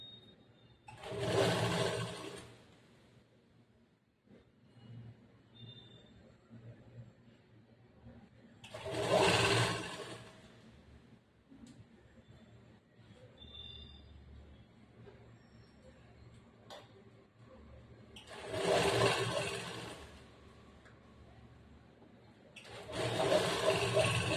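A sewing machine stitches a semi-Patiala churidar pant in short runs, four bursts of whirring spaced several seconds apart, each lasting about two seconds, with quiet handling noise and faint clicks between them.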